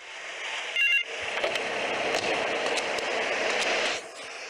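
A phone booth telephone in the GTA III video game gives a short burst of electronic tones, then a steady hissing, crackling line noise lasting a few seconds before cutting off.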